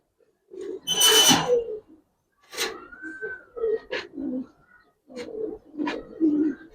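Giribaz pigeons cooing close by in several separate bursts with short pauses between them, a clear throaty call that swells and fades with each phrase.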